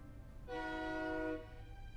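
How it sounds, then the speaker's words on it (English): A train horn sounds from a train passing by a house, one sustained chord lasting under a second, distant and faint beneath low background rumble. "there's a train going past my house"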